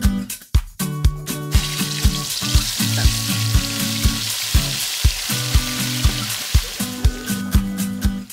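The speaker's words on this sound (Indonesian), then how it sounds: "panada digoreng dengan api sedang saja ya" Panada pastries with bamboo shoot filling deep-fry in oil over medium heat, giving a loud, continuous bubbling sizzle, with repeated sharp clinks and knocks from a utensil.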